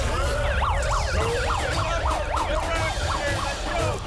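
Wailing sirens rise and fall rapidly and continuously, several overlapping, loud over a low rumbling background.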